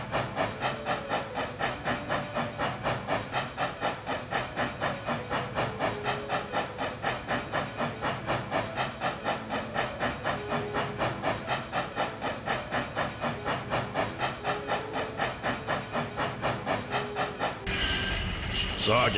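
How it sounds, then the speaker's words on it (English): A train rolls along tracks in the Army Men 2 video game, with rhythmic, evenly spaced clacks of wheels repeating steadily for the whole stretch, ending with a different burst of game sound. "this train just scooting its way down the tracks is pure nostalgia"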